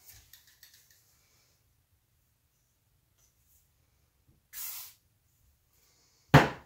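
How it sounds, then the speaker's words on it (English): WD-40 from a black can spritzed into a flip cup for acrylic pouring: two short, close hissing bursts, the second louder, after some faint tapping, with near silence between. "I just spritzed it right in the flip cup"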